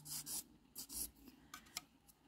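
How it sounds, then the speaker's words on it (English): A fingernail's top layer is buffed in short back-and-forth strokes, a faint, close, dry rasping in quick bursts with brief gaps. "So just be careful when you're buffing, you know, just go all around the sides."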